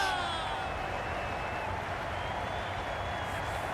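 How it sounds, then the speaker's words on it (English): Crowd applause in the video game Cricket 22 during an India versus Australia match after a wicket falls, a steady dense roar of clapping and cheering that stays loud and continuous throughout. "please give them a round of applause"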